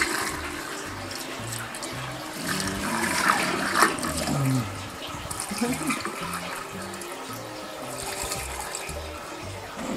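Well water is poured to top off a five-gallon batch of coffee wine, a steady rushing gush of running water that fills the space continuously with a low rumble underneath.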